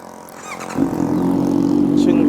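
A Honda CB650F four-cylinder motorcycle starts up close by: after a brief quiet stretch the starter catches and the engine settles into a loud, steady idle.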